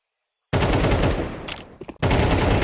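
Counter-Strike 2 gunfire cuts in suddenly as a loud, dense burst of rapid shots. It breaks off briefly and then starts again, and a caster talks faintly under it.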